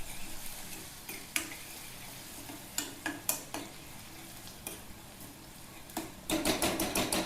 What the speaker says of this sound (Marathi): यामध्ये आपण वाटलेला लसूण टाकणार आहोत आणि हे पण चांगलं परतून घेणार आहोत